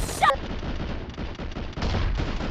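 Gunfire from an M24 sniper rifle in the mobile game BGMI: one sharp crack at the start, followed by a low muffled rumble of in-game ambience and a softer thud near the end.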